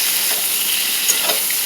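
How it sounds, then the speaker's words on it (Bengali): Potato pieces frying in hot oil, giving a brief, close, bright hiss with a few small crackles and pops and no voices. "আলুটা ভেজে নামিয়ে"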